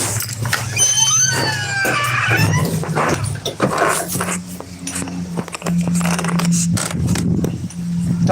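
Several dogs being taken out for a walk whimper, whine and yip excitedly up close, with growl-like grumbles and jangling keys, while a person speaks briefly.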